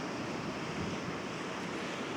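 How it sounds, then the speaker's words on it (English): Ocean waves break on a beach in a steady breeze, a continuous loud wash of surf with wind rumble filling the whole stretch and no voices. "some spectacular waves breaking just over there"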